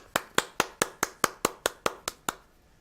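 Ten crisp hand claps in an even, steady rhythm, close and fairly loud, with no voices around them; the final clap is a little softer and leaves a brief quiet tail.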